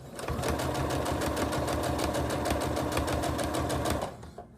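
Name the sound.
sewing machine stitching fabric for a mask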